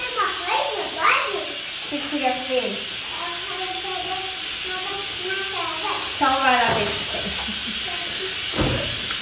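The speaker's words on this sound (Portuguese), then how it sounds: "Cozinhando feijão, como vocês podem escutar o barulho" Beans cooking in a covered pot give off a steady, fairly loud steam hiss while children chatter and call out over it.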